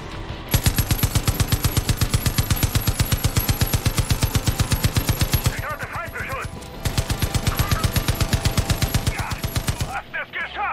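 Sustained automatic gunfire in Far Cry 5, a rapid, loud, evenly spaced stream of shots that breaks off briefly midway, then resumes and stops near the end.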